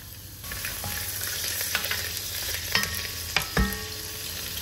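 Garlic, ginger, cloves, bay leaf and cinnamon sizzle in hot oil for a chilli beef masala, a steady close frying hiss broken by a few sharp stirring clatters in the pan.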